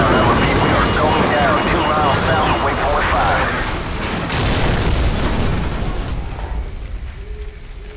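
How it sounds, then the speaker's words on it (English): A loud, rumbling explosion from an incoming missile in the video game Call of Duty 4 fills the scene, a broad blast that roars on and slowly settles, with game voices heard over the noise. "Incoming missile!"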